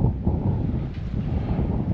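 Steady wind buffeting the microphone, a low roaring rumble with gusty swells throughout, no voices.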